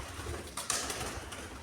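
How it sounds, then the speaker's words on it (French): Inside an abandoned hospital, a pigeon gives a short coo and flutters nearby, heard over faint hiss and room noise, with no voices. "oh le pigeon, m'a fait flipper"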